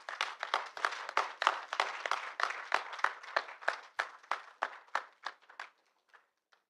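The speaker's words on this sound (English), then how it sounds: "Can I have please and round loud applause?" Audience applause at a Hernia Summit 2024 felicitation, a run of sharp, dense clapping bursts that stay loud for about five seconds, then thin out into a few scattered claps before ending.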